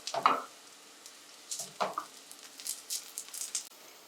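Eggplant slices fry in a pan for an Afghani burani banjan dish, giving soft intermittent sizzling and spattering with a few light clinks and stirring sounds, close and fairly quiet.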